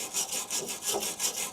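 A wire brush scrubs bare metal on the body of a Crew Cab Charger being repaired after welding, with about six rhythmic back-and-forth strokes, close and moderately loud, harsh and scratchy with no voices.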